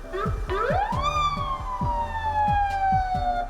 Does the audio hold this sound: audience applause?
no